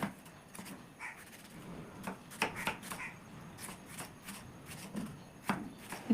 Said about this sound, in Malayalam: പച്ചത്തക്കാളി അരിഞ്ഞ് അതിൻ്റെ കൂട്ടത്തിൽ നമ്മൾ പറിച്ച നമ്മുടെ പച്ചമുളക് 2 കേട്ടോ അരിഞ്ഞെടുക്കുന്നത്